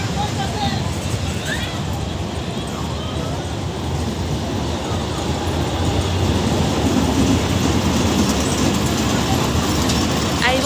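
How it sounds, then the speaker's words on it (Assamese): A fairground toy train ride runs at a Jorhat mela, giving a steady, dense rumbling clatter throughout. It blends with a busy crowd and people talking nearby. "এখন ট্ৰেইন"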